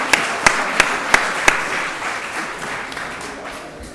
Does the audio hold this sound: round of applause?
yes